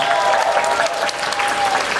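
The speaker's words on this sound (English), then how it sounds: "Volunteers, give them a round of applause." A festival audience at a fan convention's closing ceremony gives the volunteers a round of applause, a loud, dense wash of clapping from a large crowd that holds steady throughout.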